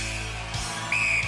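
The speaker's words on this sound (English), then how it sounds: "And the whistle's close together." A referee's start whistle on the 1993 Gladiators TV show, a steady shrill tone rising over crowd noise in the second half.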